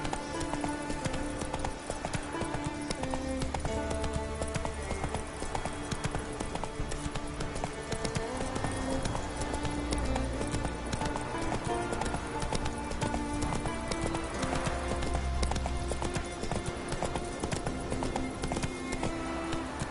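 Roach the horse galloping in The Witcher video game, hooves clip-clopping in a steady, quick rhythm that runs the whole time under dense game music.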